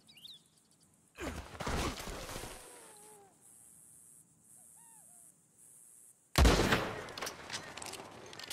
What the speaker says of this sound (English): Go on, give them a warning shot.